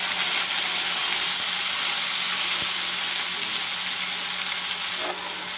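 Ginger, garlic and onion masala paste sizzles steadily in a pan as a loud, even, continuous hiss. A faint stirring scrape comes through now and then, and no one speaks.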